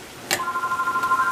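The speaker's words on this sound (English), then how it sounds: "That's my phone ringing." A phone rings in a home kitchen during cooking, a short burst of steady electronic tone bracketed by two sharp clicks, fairly clear against quiet background.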